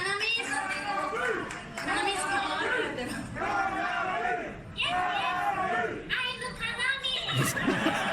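A dense concert crowd on a 2022 US tour cheers and calls out a band member's name, many overlapping voices forming a loud, continuous roar with rising chant-like swells and scattered claps throughout.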